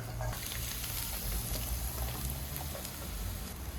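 Steady, crackling sizzle of chopped onions frying in hot olive oil, with a few soft stirring clicks; close and continuous, no voices.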